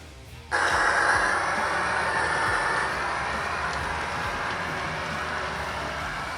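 A model railroad locomotive's small motor starts abruptly and runs with a steady whirring hum, a faint rhythmic clicking underneath, slowly easing slightly in loudness.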